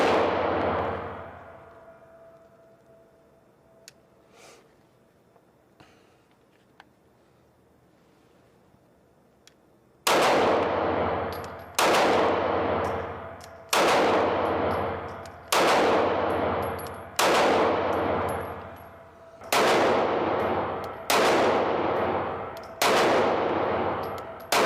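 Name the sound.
Taurus G2C 9mm pistol shots at range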